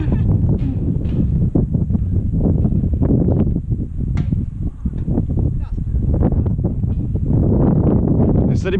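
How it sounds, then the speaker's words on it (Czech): Strong wind buffeting the microphone on the Sky Bridge 721 suspension footbridge, a loud continuous rumbling roar with gusty surges throughout, people talking in the wind. "Mně se líbí, tak tady krásně fouká."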